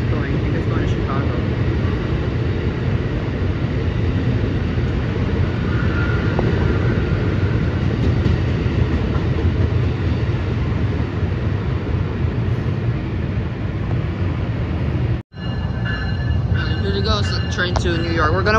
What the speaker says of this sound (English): I think it's going to Chicago.